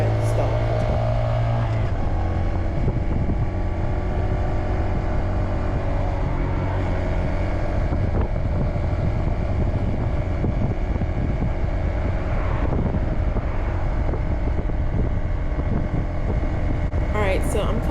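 A Honda Grom motorcycle rides down a main road, its small engine drone steady and close beneath heavy wind rush on the microphone throughout.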